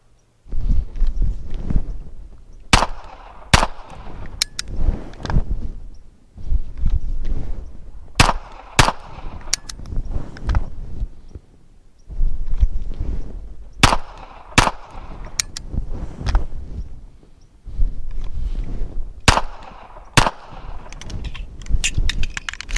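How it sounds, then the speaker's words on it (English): Smith and Wesson .45 ACP pistol fired at a decent pace on a range, about a dozen sharp, loud cracks in spaced strings with short pauses between, no talking. "All right, shooting at a pretty decent pace."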